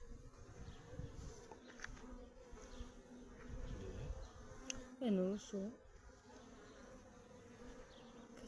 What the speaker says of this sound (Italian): Api ce ne sono tante.